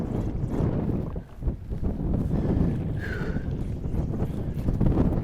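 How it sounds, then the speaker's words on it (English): Steady wind roars and buffets across a lake bank during a fishing trip, loud and continuous at the microphone, with no voices. "So the wind was supposed to blow north today, which was gonna lay this bank down, and it's blowing straight west, which is making it tough"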